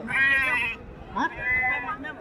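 A black sheep bleats loudly and nearby at a sheep market, with a wavering cry, a short pause and then a second bleat.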